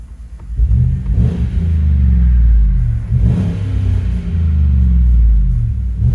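Deep, rumbling exhaust of a 2015 Chevy Tahoe with a 5.3L V8 and muffler delete, heard from inside the cabin as the engine revs up in several swelling pulses over a steady low idle.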